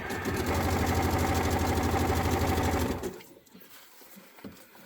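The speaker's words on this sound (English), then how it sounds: "Because I'm stitching it on the trim." Sewing machine runs fast and steadily for about three seconds, stitching fold-over trim onto stretchy fabric, close and loud, then stops, leaving quiet handling noises.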